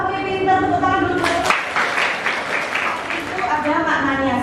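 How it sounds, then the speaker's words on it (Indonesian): Classroom applause at a school dance lesson: a group claps briskly for several seconds, bracketed by an adult voice talking before and after. "tepuk tangan dulu"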